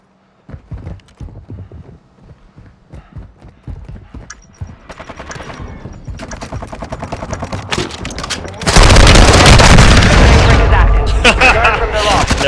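Gunfire in Warzone 2, starting with scattered single shots and short bursts, then building into dense, loud sustained automatic fire near the end, with clattering mechanical sounds between shots.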